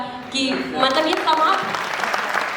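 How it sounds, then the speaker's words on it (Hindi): Audience clapping and applause at a theatre performance of a social drama, rising suddenly and continuing steadily under someone talking over it. "we deserve this clap and applause"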